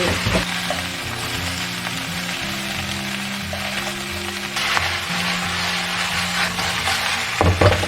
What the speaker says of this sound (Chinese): 然后下入大头虾，保持中大火煎。